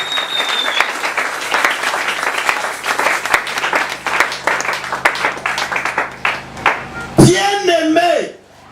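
A church congregation bursts into sustained applause and clapping during a French-language sermon, a dense, loud crackle of many hands that runs steadily before a voice rises over the tail end.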